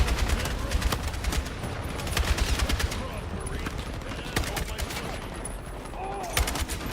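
Battlefield 6 combat gunfire: rapid bursts of automatic fire and scattered single shots, some close and loud, others further off, continuing throughout with faint game voices mixed underneath.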